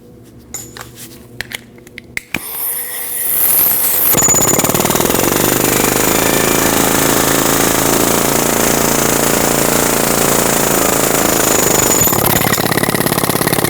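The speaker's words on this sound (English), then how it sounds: "so I'm going to use an air hammer" A loud, rapid pneumatic air hammer pounds continuously on a rusty ball joint of a 2003-2008 Subaru Forester after a few seconds of quieter clanking, a harsh sustained rattling roar close by.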